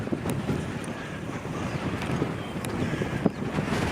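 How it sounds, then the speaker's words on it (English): A stiff, chilly east wind buffets a microphone on a sunny Dartmoor hike, making a steady, loud, rumbling roar with occasional sharper gusts throughout. "it's a pretty stiff and chilly east wind"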